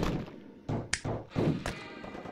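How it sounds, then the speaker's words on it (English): Artillery barrage in the video game Atom Zombie Smasher, a run of dull, heavy thumps landing in quick succession, close and fairly loud with no voices over it. "Artillery barrage down there."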